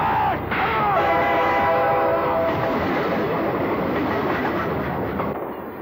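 A moving train rumbles loudly and steadily with a rushing clatter, and a horn-like tone sounds briefly near the start; faint voices may sit under the noise.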